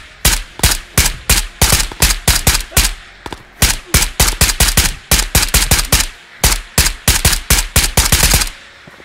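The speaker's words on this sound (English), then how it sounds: "Freaking scav shot the shit out of me" Loud, close automatic gunfire from a scav in the video game Ghosts of Tabor, repeated rapid bursts of shots in an uneven rhythm with brief pauses between them, no talking.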